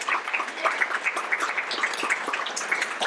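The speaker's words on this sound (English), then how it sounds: "Big round of applause." Moderate applause from a crowd, a patter of many hands clapping at an even level, slightly distant.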